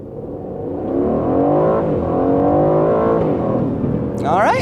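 A 2019 Aston Martin Vantage in Sport Plus mode accelerates hard from 0 to 60, its engine note climbing steadily as a loud, continuous, rising roar.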